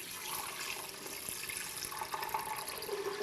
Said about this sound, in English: Here, we're going to pour that in the Vitamix.